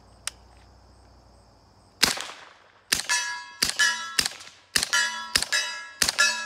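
Suppressed H&K UMP 40 submachine gun fitted with a B&T suppressor, firing about seven sharp, close reports spaced roughly half a second to a second apart, each with a bright metallic ring. A faint earlier click precedes them.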